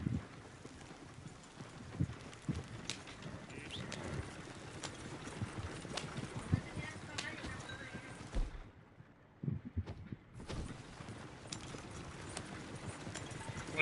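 A horse gallops and neighs in the video game Red Dead Redemption 2: rhythmic hoofbeats run under sharp whinnies, broken by a brief near-silent gap partway through.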